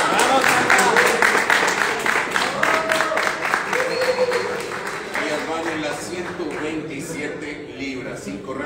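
Applause from a crowd at a Naciones MMA weigh-in face-off in Mexico, steady and dense at first and then thinning, under a loud announcer's voice.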